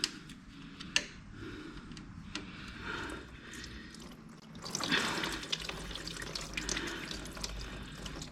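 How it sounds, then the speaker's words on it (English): Coolant draining from the main line of a 2009 Kawasaki Vulcan 1700 Classic motorcycle, a steady trickle that swells into a fuller, louder gush of pouring liquid partway through, with a few faint ticks. "we're going to drain the main line"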